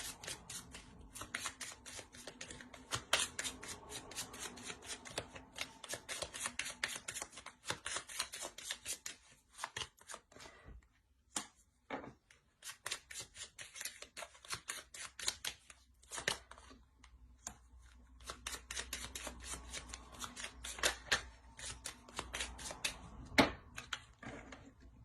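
Tarot cards riffled and shuffled by hand for a card reading, long stretches of dense, crisp flutters and snaps, close and fairly quiet, pausing briefly midway before resuming.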